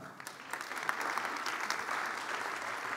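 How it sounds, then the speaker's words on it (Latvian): An audience at a signing of cooperation memoranda on electricity and heat supply applauds the minister, a steady wash of many hands clapping together, dense and even throughout, heard moderately from within the room. "Aplausi ministram."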